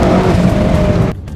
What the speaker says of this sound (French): Je suis une McLaren Senna qui a été modifiée. Maintenant, elle a 1186 chevaux.